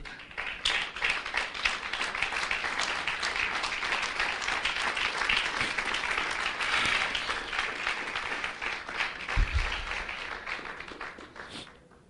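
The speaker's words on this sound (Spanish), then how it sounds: "Denle un aplauso al Señor, por favor." A congregation applauds for the Lord during a sermon, with sustained crowd clapping that holds steady for several seconds and then tapers off at the close.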